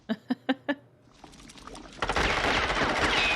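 Gunfire in the 1980s film The Blob: four sharp, evenly spaced shots ring out, then a dense, rising burst of rapid firing and noisy rumble takes over, with no talking.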